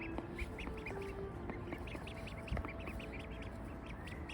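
Ducklings and their mother duck make soft quacks and peeps nearby in a quiet outdoor setting, in short scattered calls over a low background hum.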